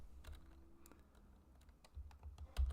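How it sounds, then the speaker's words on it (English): Scattered keystrokes on a computer keyboard during Excel VBA coding, quiet and close, with irregular taps and a few firmer clicks near the end. "I can start typing"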